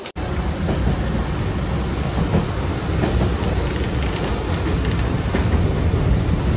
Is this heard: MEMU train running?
yes